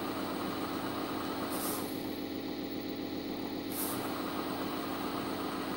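Electric motor of a Tamiya 1/14 RC truck whines steadily against the drag of working drum brakes on its trailer, a continuous close hum with brief higher-pitched bursts of strain twice.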